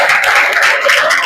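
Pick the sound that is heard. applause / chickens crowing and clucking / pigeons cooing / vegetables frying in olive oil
applause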